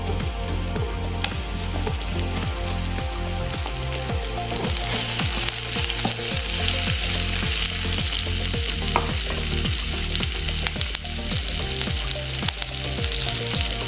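Onion frying with garlic in a hot pan for a chicken dish, a loud continuous sizzle with a regular stirring rhythm of utensil strokes throughout, no talking.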